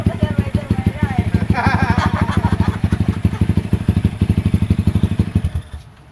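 A Honda XR200 motorcycle engine runs at a lumpy idle with rapid, even thumping pulses, close and loud, while brief talk passes over it before the engine dies away at the end.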